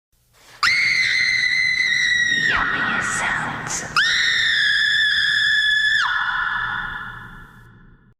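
A woman's long, shrill scream in a ghost story set in a graveyard, two sustained piercing wails separated by a brief ragged break, loud and close, trailing off at the end.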